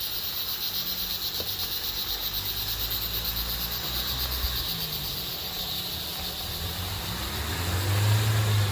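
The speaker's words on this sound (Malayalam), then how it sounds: "അതൊക്കെ നമ്മുടെ ഗൂർക്ക കടത്തി വെട്ടി കിടിലനായിട്ട് കയറുന്നുണ്ട്" A Force Gurkha Xtreme 4x4 climbs a steep off-road slope near Munnar in Idukki. Its low engine drone hums under constant insect chirping and swells louder toward the end.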